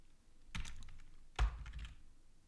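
Two quick bursts of typing on a computer keyboard, close and fairly quiet, each a short flurry of clicky keystrokes separated by a pause, with no talking.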